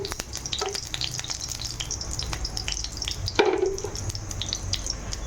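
Pumpkin leaf paste frying in a little oil in a kadai gives a close, steady sizzle, broken by scraping stirs and one louder splutter midway, with no talk.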